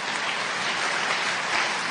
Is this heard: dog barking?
no